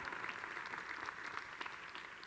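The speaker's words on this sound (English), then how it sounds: "Well, you can applaud to that." An audience applauds a speech by the Michigan governor at Detroit Homecoming 2015, a dense, steady patter of clapping hands filling the short stretch without speech.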